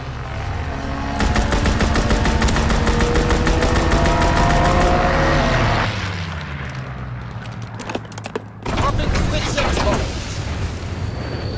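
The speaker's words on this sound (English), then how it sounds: "Recon airborne. Strafing run inbound." A WWII fighter plane makes a strafing run in a video game, its guns hammering in a loud, rapid stream for several seconds, then breaking into scattered cracks and a final burst of fire.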